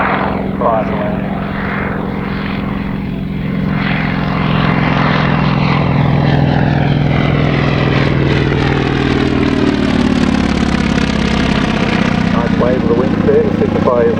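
A propeller aircraft at a country air show in Victoria sounds its droning engine throughout, loud and close, with the pitch rising and shifting as it passes. A commentator's voice runs over the top.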